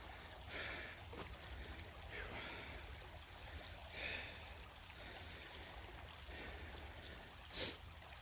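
A branch of Kings Creek in Kings Mountain State Park flows steadily after rain, a soft, constant wash of water heard from nearby, with a brief louder knock near the end.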